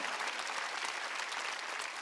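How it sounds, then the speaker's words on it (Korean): A church congregation at a Wednesday worship service bursts into sustained, even applause, a dense wash of clapping from many hands with no speech on top. "박수야"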